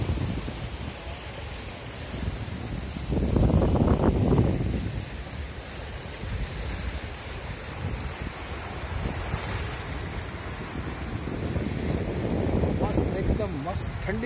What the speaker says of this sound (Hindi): ये देखो समुद्र का कितना प्यारा नज़ारा है, कितनी ठंडी ठंडी हवा चल रही है।